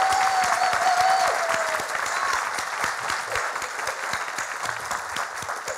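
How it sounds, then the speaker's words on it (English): Audience at a Deltona mayoral debate applauding the candidates, sustained dense clapping with a brief whistle-like tone near the start, gradually tapering off. "I want you to all give a big round of applause to all of these candidates for a really great job."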